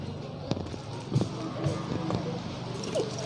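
AK-47 gunfire in the video game PUBG: a few sharp, cracking shots at irregular intervals over a steady busy game background, with a voice talking at times.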